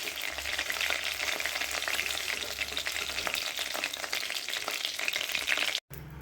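Pangas fish frying in a pan in its own released fat, a dense continuous sizzle with crackling bursts and occasional stirring, close and loud, no talking.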